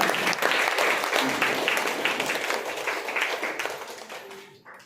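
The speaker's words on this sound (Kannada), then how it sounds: "ಜೋರಾಗಿ ಚಪ್ಪಾಳೆ ಯಾರಿಗೋಸ್ಕರ" Loud, sustained applause from a gathered audience at a new product opening function, dense clapping that holds steady before tapering off near the end.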